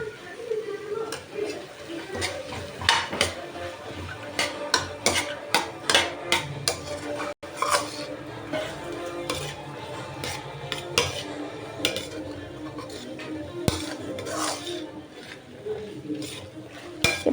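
Carrot, potato and other vegetables for tiffin sambar are stirred in a pan with a metal spoon, giving repeated close clinks and scrapes against the pan in an uneven rhythm.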